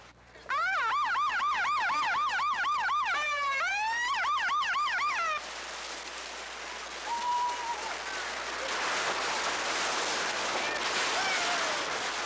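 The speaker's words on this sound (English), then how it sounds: "The sound of the siren, they were off." A wailing siren sweeps up and down rapidly, starting a club's annual New Year's ocean dip, then gives way to a noisy crowd and rushing surf in the background.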